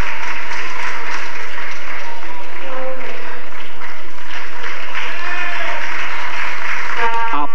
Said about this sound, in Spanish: Aplauso del seu seguidor.